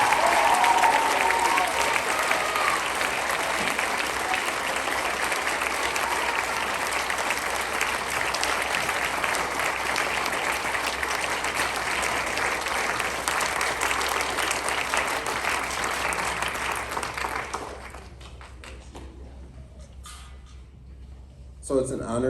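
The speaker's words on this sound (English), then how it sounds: "Could we have a round of applause for the seniors?" Audience applause for seniors at a high school band spring concert, a long, dense and even roar of clapping from a large crowd that thins and stops after about seventeen seconds.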